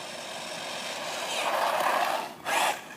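Small GP Toys S912 RC car racing past at top speed, a rising broadband whine that swells and fades, then a short second burst, heard outdoors at a moderate distance.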